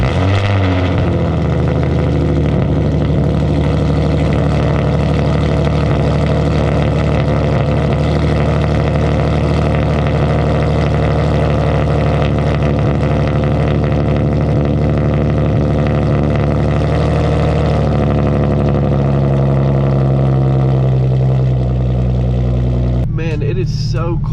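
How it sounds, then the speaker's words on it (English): A Hyundai Genesis Coupe 3.8 with an ISR Race exhaust cold-starts on a chilly morning and holds a loud, steady, deep idle that drops slightly in pitch near the end, with the engine continuing under a brief closing noise. "Let's go ahead and get one last cold start on this ISR Race exhaust."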